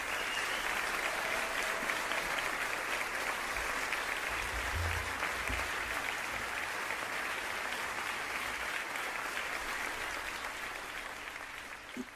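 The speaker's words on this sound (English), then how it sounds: "Can we get a soundboard round of applause instead?" A soundboard applause effect: a steady, dense wash of crowd clapping that holds evenly for about twelve seconds before tapering slightly at the end, with no talking.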